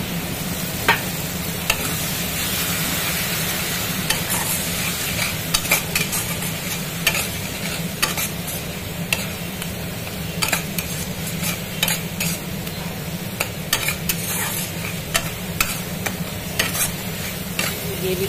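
Gravy for Bengali stuffed pointed gourd (potoler dolma) sizzles steadily in a pan after a little water is added, with a constant frying hiss and occasional clinks of a stirring spoon against the pan.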